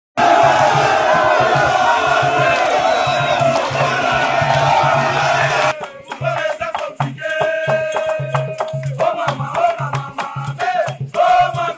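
Large crowd at the Palais du Peuple in Kinshasa roaring and cheering loudly for about six seconds, then dropping to scattered shouts, whoops and music-like bursts.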